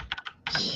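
A quick burst of keystrokes on a computer keyboard, a few crisp clicks followed by a denser rattling run, close and alone.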